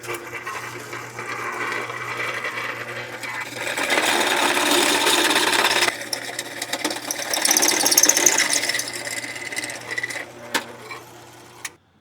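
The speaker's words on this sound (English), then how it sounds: "I need to bore this hole out a little bigger, because it's off center." Boring out an off-center hole in a 3/4 inch block in a machine shop, a steady machining whir and grind that swells louder through the middle and ends abruptly, with a constant low hum underneath.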